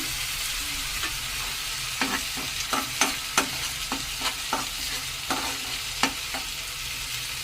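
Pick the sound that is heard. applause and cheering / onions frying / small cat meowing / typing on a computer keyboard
onions frying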